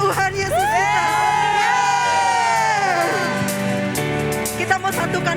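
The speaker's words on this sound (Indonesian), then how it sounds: "kita tepuk tangan buat Tuhan Yesus kita" Church congregation at a worship service clapping and cheering, with loud whoops and shouts riding over steady clapping and background music throughout.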